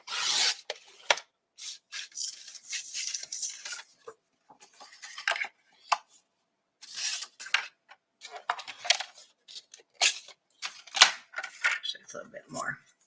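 Paper for a Christmas box album being trimmed down to size, close scraping and rasping cuts in short separate bursts with brief pauses between them.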